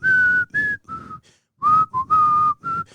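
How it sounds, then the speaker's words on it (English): A man whistles the Full House theme tune, a clear, close melody of short, bright notes separated by brief pauses. "He puckered his lips and whistled the theme to Full House."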